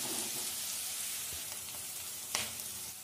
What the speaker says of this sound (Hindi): प्याज को हल्का सा भून लेंगे, हल्का ब्राउन होने तक प्याज को भून लेंगे।